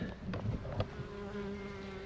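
Honeybees returning to the hive after foraging on pumpkin flowers and carrying pollen make a steady, close buzzing hum with a few louder passes near the start.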